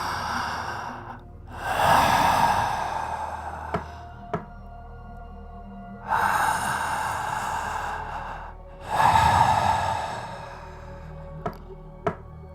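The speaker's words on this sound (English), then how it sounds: "I was awoken by a strange knocking sound followed by a deep heavy breath." A person in a room recreates the sounds of a frightening night: sharp isolated knocks and long, deep, heavy breaths, close and loud, in four swelling breath bursts with single knocks between them.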